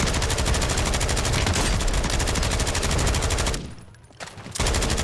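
Dense, continuous automatic gunfire in the video game Warzone (Resurgence mode), loud rapid-fire bursts that drop out briefly near the end before resuming.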